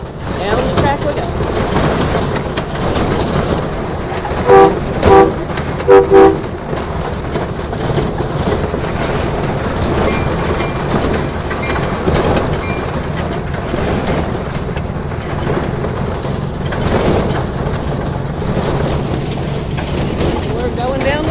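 A steady, continuous rumble of a train moving along the track, with a few brief chirping sounds partway through.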